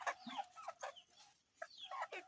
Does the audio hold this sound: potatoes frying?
no